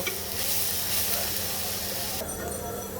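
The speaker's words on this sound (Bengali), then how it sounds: "তো এবার আলু আর সব কিছু একসাথে কয়েক মিনিট সুন্দর করে ভাজা ভাজা করে নেব" Potatoes fry together with other ingredients in a pan for a Kajki fish chorchori with tomato, giving a soft, even, continuous sizzle that stays fairly quiet and steady throughout.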